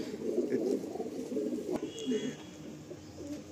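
Giribaz flying-line pigeons coo in low repeated bursts close by, and a person speaks over the calls.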